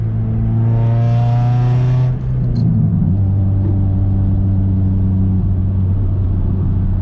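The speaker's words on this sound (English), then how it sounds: "that clutch just slipped like a motherfucker" Loud, close engine drone from an Acura RSX revving with a slipping clutch, a sustained roar whose pitch shifts partway through, with no talk over it.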